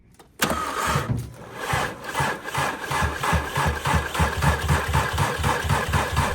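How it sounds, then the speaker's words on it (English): A VW Golf R engine cranks steadily without firing: a continuous, rhythmic starter churn with evenly pulsing low thumps, loud and close, running from just after the start to the end. "Rich, you said that you tried cranking it and it cranks, but it doesn't start."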